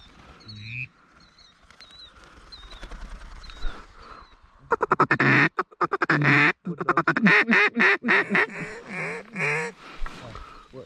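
Ducks quack repeatedly during a duck hunt, with sharp calls clustered in the opening seconds before louder, closer voices and hunters talking take over the rest of the clip.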